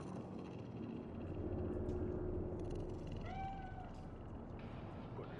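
A single cat meow in the video game Cyberpunk 2077, a short rising-falling cry midway through, heard over a low, steady ambient rumble.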